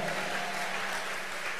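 A congregation claps at a church dedication service, a dense, continuous patter of many hands spread across the room at an even, moderate level with no voices over it.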